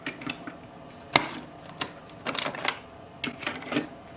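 Ink cartridges pressed down and pulled from a Brother MFC-J1360DW printer give a scattering of sharp, close plastic clicks and snaps, one louder click standing out among quieter taps.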